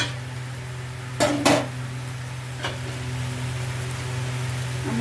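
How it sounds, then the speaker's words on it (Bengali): A metal lid set onto a cooking pot while a vegetarian dish of mouri kochu shak cooks gives two quick clanks close together, then a fainter tap, over a steady low hum. "আমি একটু ঢাকা দিয়ে দিচ্ছি।"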